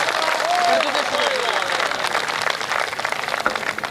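Audience applause at a Hindi kavi sammelan poetry gathering, a dense wash of clapping from a crowd that holds steady throughout, with a faint rising tone early on.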